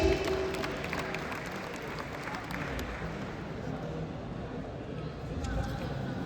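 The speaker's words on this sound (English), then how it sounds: "Let's have a big round of applause for the dynamic leadership." Applause from a large crowd at the opening ceremony of an All India Civil Services Badminton Tournament, a dense, continuous wash of clapping heard at a distance and sustained evenly throughout.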